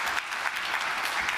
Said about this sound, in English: please be very generous in your applause as we welcome our guests to the stage